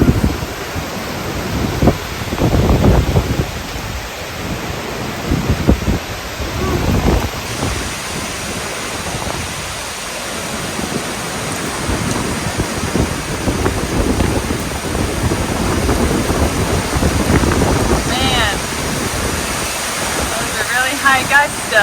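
Strong, roaring hurricane wind gusts with rain and buffeting noise on the microphone, rising and falling in surges throughout, during Hurricane Ian.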